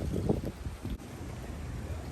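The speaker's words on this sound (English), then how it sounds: "Let me get a microphone because it's very windy." Low, gusty rumble of wind buffeting a microphone, uneven thumps at first, then settling into a steady muffled roar.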